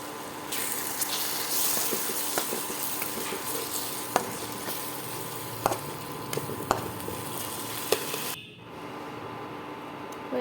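Salt, turmeric and crushed cumin sizzle and fry in hot oil while being stirred for a fish curry with drumsticks and potatoes, giving a steady close crackle with light scraping taps, then a brief drop near the end.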